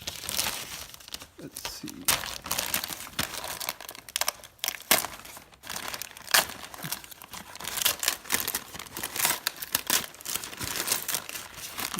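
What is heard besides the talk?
peeling Rust-Oleum Peel Coat off wheel lug nuts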